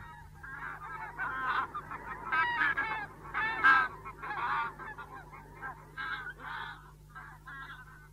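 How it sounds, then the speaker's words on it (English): A huge flock of thousands of geese on a loch keeps up a dense, continuous chorus of overlapping honks and cackles, moderately distant and unbroken throughout. "Loch and Dal fills up with thousands upon thousands of these geese"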